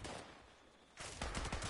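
A weapon fires fast, repeated rounds in Fallout 76, a quick clattering burst that comes in after a quieter noisy stretch and stays dense to the end. No speech.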